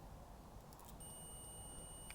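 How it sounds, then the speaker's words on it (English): A continuity tester on repaired car wiring in a Mk5 Golf TDI gives a faint, thin high-pitched beep that starts midway and holds steady, with a few brief clicks and ticks near it. "getting a beep"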